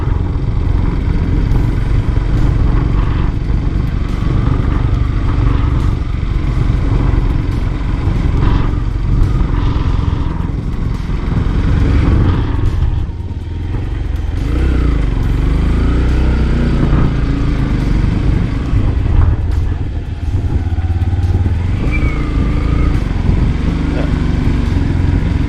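A Yamaha FZ-X motorcycle engine and exhaust while riding uphill in second gear, a loud continuous close-up drone with rising and falling revs and wind buffeting throughout.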